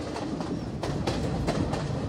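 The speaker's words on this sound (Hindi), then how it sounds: "और आवाज कितनी कर रही है इसके ट्रैक, इतनी ज्यादा आवाज कर रही है, हद आवाज कर रही है।" A train in Sri Lanka, on the route out of Ella, runs along the railway tracks with a loud, steady rumble and a regular clickety-clack of wheels over rail joints, heard close from inside the carriage.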